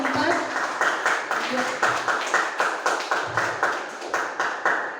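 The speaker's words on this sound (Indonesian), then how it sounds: "Beri tepuk tangan dulu untuk kelompok" Classroom clapping for a student group, a rhythmic patter of hands from a small crowd nearby, with voices murmuring over the regular beats.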